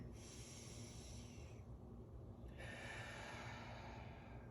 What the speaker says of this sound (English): Last one, breathing in.